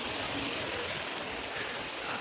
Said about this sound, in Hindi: ये देखिए अभी भी बारिश हो रही है